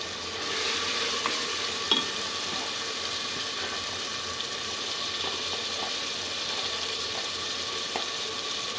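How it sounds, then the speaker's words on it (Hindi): Tomatoes and crushed green chili go into garlic and onion already frying, producing a constant close sizzle with a few faint, scattered spoon clicks. "अब हम इसमें डालेंगे टमाटर और साथ ही हम ये ग्रीन मिर्च डाल देंगे जो क्रश की हुई है।"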